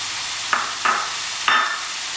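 Mutton liver fries in ghee with onions in a pan, giving a steady sizzle under three sharp scraping stirs of a spatula spaced about a second apart.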